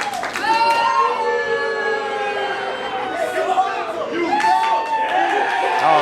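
A wrestling crowd roars an ovation for wrestler Mokele, with dense cheering, whoops and scattered clapping throughout, loud and sustained, with voices mixed in.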